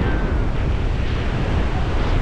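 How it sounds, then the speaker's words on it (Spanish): Strong wind buffets the microphone over a constant roar of sea waves on a beach at Valeria del Mar, loud and unbroken throughout. "No hace frío, hay mucho viento, lo único."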